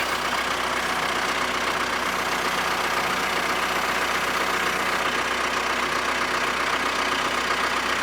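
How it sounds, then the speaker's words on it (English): A skid steer engine runs at a steady, loud drone while it pushes a bent steel bumper back into shape, with no pauses or change in pitch across the whole stretch. "take the skid steer and get it around to where the left side fork's sitting out"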